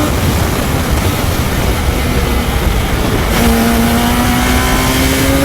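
A Hayabusa-powered Radical SR1 race car at speed, its engine droning loudly and steadily with a broad roar, then a rising whine as revs climb toward a high red line, heard close from onboard.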